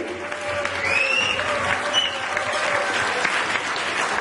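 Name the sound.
audience applause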